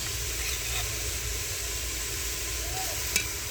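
Onions frying in ghee in a cooking pot: a soft, even sizzling hiss that holds steady throughout, faint and close, with a small clink near the end.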